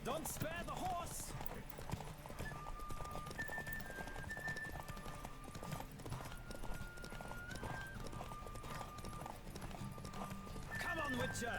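Horse hooves clip-clop steadily through a horse race in The Witcher 3, with whinnies near the start and end, joined by sustained tonal music and speech over the whole clip.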